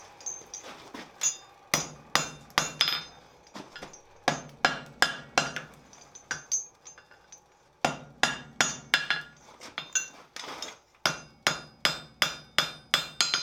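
Hammer blows ring out on a steel chain link during forge welding, in quick bursts of sharp, loud metallic strikes separated by brief pauses, with no talking.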